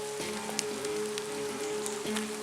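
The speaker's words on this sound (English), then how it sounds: "Starting to rain again." Rain falls in the woods along the Camino de Santiago walking route, a soft, steady patter with faint scattered drips and a low tonal hum beneath, quiet and continuous with no voices.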